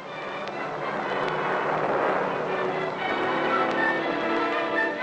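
Roaring rush of an ASROC anti-submarine missile launch from a naval ship, a loud, sustained broadband blast that holds steady throughout with a few sharp crackles on top.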